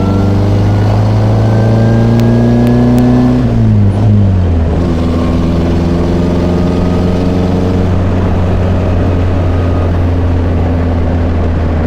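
The engine of a 1961 Morgan Plus 4 revs loudly and close by, its tone climbing and then dropping back to a steady, throaty drone that holds for several seconds, with no talking.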